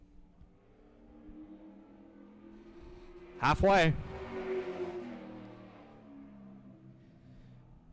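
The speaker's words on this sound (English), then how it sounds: "That car slamming right down on the track." A race car at the Easy-Kleen Pressure Systems 150 roars past on the track, a brief loud surge of engine noise rising and falling within a second, framed by a commentator's voice and quieter crowd and track ambience.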